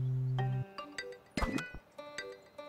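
An electronic ringtone chimes in the Beastieball video game, a sequence of bright, distinct synthesized tones over a fading low drone, with a louder burst near the middle.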